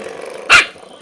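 A dog gives one short, loud bark with a growl while playing with a door stopper indoors. It is close and quick, and silence follows.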